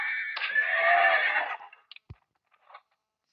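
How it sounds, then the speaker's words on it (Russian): A loud, long horse whinny from the video game Survivalcraft that wavers for over a second, followed by a few short snorts and clicks before silence. "Это лошадь."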